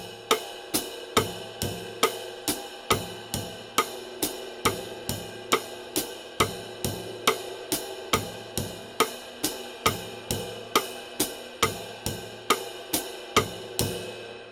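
A drum kit plays a bossa nova pattern accenting beats two and four, with evenly spaced crisp hits in a steady repeating rhythm at moderate volume, alone without talk.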